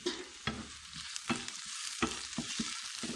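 Garlic and green chillies frying in a pan, a close, steady sizzle broken by repeated scraping strokes as they are stirred, with no speech over it.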